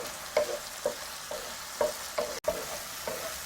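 Tomatoes stir-fry in a pan over medium heat, with a spatula scraping roughly every half second over a steady low sizzle. Nearby and moderately loud, with no voices.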